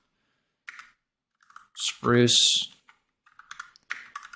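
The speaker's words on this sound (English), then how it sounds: "So if I start typing this in" Keys clacking on a computer keyboard as a street address is typed into a roofing CRM program, a quick burst of close clicks between short spoken words.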